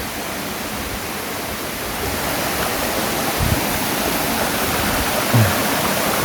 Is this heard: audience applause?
no